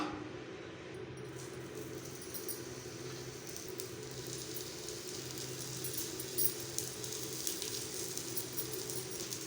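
Sweet potato cutlets frying in oil in a pan, a steady soft sizzle and crackle running throughout at low level, with no talking.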